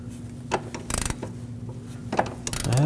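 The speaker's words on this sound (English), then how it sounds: "I'll use a 17mm ratcheting wrench on this." A 17mm ratcheting wrench works on a stuck, rust-penetrant-treated nut on a 2006-2015 Lexus IS250 control arm, giving irregular close clicks and metallic clatter in short bursts with a low hum underneath; no speech.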